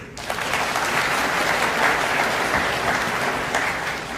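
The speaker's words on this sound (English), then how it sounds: "give yourself a round of applause for being here." Dense, steady applause from the crowd at a military training group activation ceremony, a full round of clapping lasting several seconds, loud and unbroken with no talking over it.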